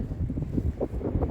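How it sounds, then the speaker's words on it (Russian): Strong hurricane-force wind gusts buffet the microphone outdoors in Visaginas, Lithuania, on a mild December day, a loud continuous low roar that surges and dips with each gust, with no voices. "Но ветер сильный очень даже."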